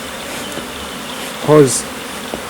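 Honey bees hum around an open beehive during an inspection, a soft background drone with one bee buzzing briefly close to the microphone; someone speaks a word over it.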